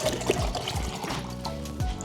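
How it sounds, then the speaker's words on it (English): Cold tap water runs into a container, a short close trickle and splash that keeps a steady flow for a couple of seconds. "Let's fill this up with some water. I want it cold."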